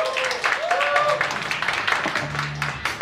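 Applause from an audience at a live indie rock concert in Daegu fills the room as steady, dense clapping throughout, with a few voices and a faint tone cutting in briefly.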